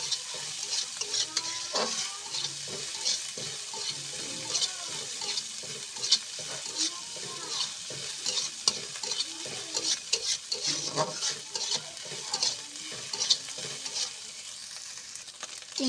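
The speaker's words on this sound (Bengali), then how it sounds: "লাল লাল করে চিংড়ি মাছগুলো ভেজে নেব" Dried shrimp fry in a pan with a steady crackling sizzle, broken by frequent scraping and clinking as a utensil stirs them around the metal pan, with no voices.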